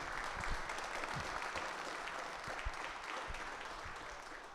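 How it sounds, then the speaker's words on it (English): Steady applause from a crowd at a high school athlete signing day ceremony, a dense wash of clapping that holds evenly throughout without any talking over it. "Let's give them a round of applause for their time this evening"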